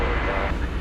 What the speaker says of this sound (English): we've got American Flight 550 from Chicago O'Hare, an Airbus A321, right in front of us now